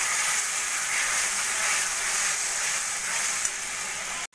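Potatoes and pointed gourd fry with spices for a rohu fish curry, making a steady, moderate hiss of sizzling oil that stops abruptly at the end; no voices.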